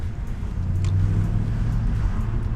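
A Mercedes C63 AMG with the Performance Pack, a 487-horsepower car, purrs with a deep, steady low engine rumble while driving, loud and continuous inside the cabin, with no talk.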